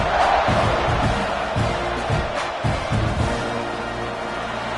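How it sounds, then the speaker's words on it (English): A college football stadium crowd waits for kickoff with a loud, continuous roar, rhythmic stomping or clapping thuds running through it, and a faint announcer voice in the mix. "this crowd now ready to get behind them"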